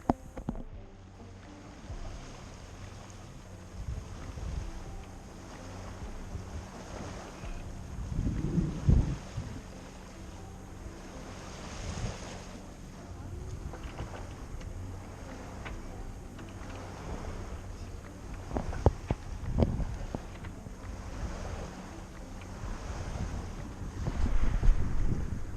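A sailboat's engine hums steadily under gusty wind buffeting the microphone on a cruise from Menorca to Porto Colom, with water splashing and a few knocks now and then.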